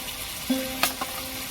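Ground cumin and coriander fry in hot oil for a fish curry, a dense close sizzle with a few light clicks of stirring, no voices.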